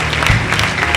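A church congregation bursts into applause, a brief, dense patter of clapping with a low hum underneath.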